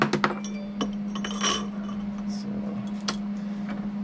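Metal nuts and bolts clink against each other as they are handled for welding onto a Jeep Cherokee skid plate, with several sharp close ticks early on and a few more later over a steady hum.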